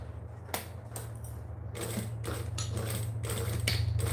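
A sewing machine set to a 3 stitch length runs a 1/4 inch seam through foam, a steady mechanical whirr with rapid rhythmic ticking over a low motor hum, close and continuous without talk.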